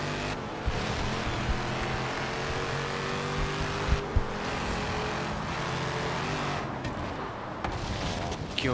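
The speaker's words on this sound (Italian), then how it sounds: "Sta macchina accelera soltanto." Roaring muscle car engine accelerating hard in Forza Horizon 3, a loud sustained rising growl with brief gear-shift dips, up close and without talk.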